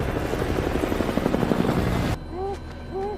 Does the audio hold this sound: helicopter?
yes